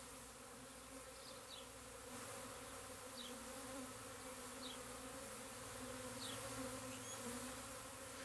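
Steady, dense buzzing of honey bees shaken off hive frames fills the clip, a continuous droning hum with a few brief higher whines passing by.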